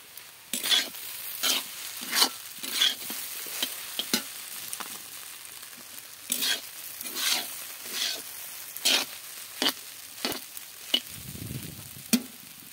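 Chowmein is stir-fried in a pan, with rhythmic bursts of tossing and scraping about every half second over a quiet sizzle, close and clear, and a brief low thump near the end.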